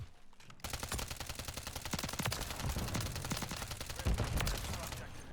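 Rapid automatic fire from a Striker SMG in Modern Warfare 3, starting abruptly after a short quiet lead-in and continuing as dense sustained bursts of close, loud shots with a slight swell near the end.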